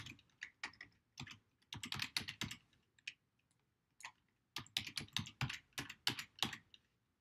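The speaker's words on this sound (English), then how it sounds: "just go ahead and type in your same login and password" Someone enters a login and password on a computer keyboard: quiet, close key clicks in uneven bursts with brief pauses between runs of typing, and no voice.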